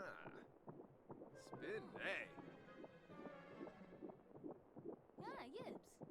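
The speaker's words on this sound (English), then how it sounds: "you can hear the baby's heartbeat" A baby's heartbeat plays from an ultrasound in The Sims 4, a soft rhythmic pulsing beat heard faintly beneath continuous talking.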